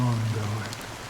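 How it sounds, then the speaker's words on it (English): Steady rain pours down in a Honkai Star Rail game scene, a soft broadband hiss that runs for the whole brief moment under a low sustained hum. "How long has this rain been ongoing?"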